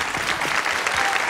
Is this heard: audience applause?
yes